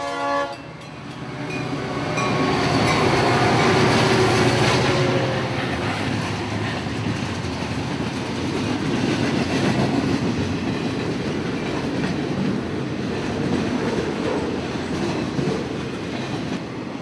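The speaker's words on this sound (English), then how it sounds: "First catch of this rainy June evening was FEC train 107, Bowden to Hialeah intermodal traffic." Florida East Coast intermodal freight train 107, Bowden to Hialeah, mostly trailers on flatcars, rumbles past on a rainy June evening, loud and close, with a horn blast early on and continuous wheel and car noise throughout.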